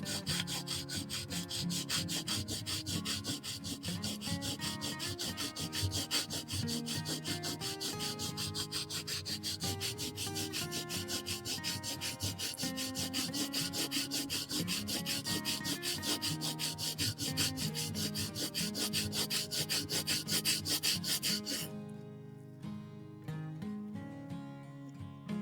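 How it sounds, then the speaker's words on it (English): Steady, even rubbing and scraping of a carving knife blade worked back and forth on the coarse side of a sharpening stone, close and continuous for about twenty seconds before the strokes break off near the end. "Now we're going to work the other side on the coarse side of the stone until we get that burr in the other direction."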